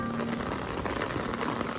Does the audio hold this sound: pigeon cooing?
no